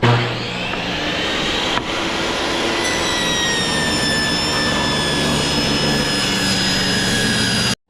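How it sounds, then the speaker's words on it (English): Power saw ripping a leftover tongue-and-groove wooden board in half, a loud continuous whining buzz with rising tonal harmonics that runs for several seconds and cuts off sharply at the end. "I'm going to rip this in half, and use it as the backer to hold this together."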